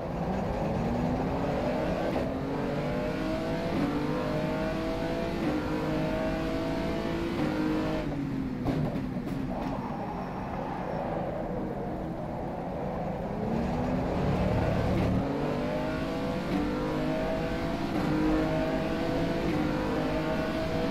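A GTR race car engine in the rFactor 2 racing game at the 24 Hours of Spa drones continuously, rising and falling through gears as it accelerates and brakes, steady and close with no talk.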